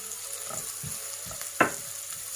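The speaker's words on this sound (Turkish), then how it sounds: "Ve ikisini bir kavuruyoruz arkadaşlar." Flour and red borlotti beans sautéing in a pan give off a soft, steady sizzle, close by, broken by a few light stirring scrapes and one sharp clack partway through.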